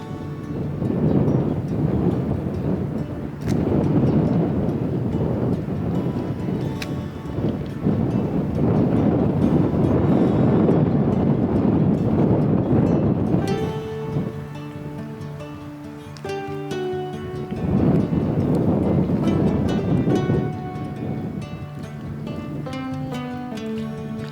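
Wind buffeting a microphone at an outdoor bathing area, a steady loud roar and rumble that surges and eases over the whole stretch, with no talk.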